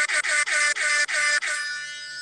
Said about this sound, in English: Hope you enjoy that foghorn.